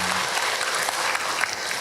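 Loud, dense applause from a women's Islamic study group audience at a religious lecture, continuous clapping filling the short stretch without speech.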